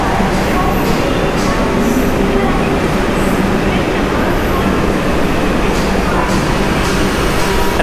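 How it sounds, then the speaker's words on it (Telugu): Tirupati–Secunderabad Vande Bharat Express 20701 pulling into a station, a loud steady rumble of rolling coaches and rail noise filling the whole stretch, close by, with a few faint higher tones on top. "ఆఫ్టర్ 15 minutes డిలే తర్వాత అయితే మన పడవ అరైవ్ అయిపోయింది. 20701 తిరుపతి సికింద్రాబాద్ వందే భారత్ ఎక్స్ప్రెస్."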